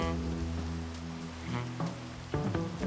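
Steady rain in Minecraft falling over a blocky city graveyard, a soft continuous hiss under layered tonal music and a few brief accents.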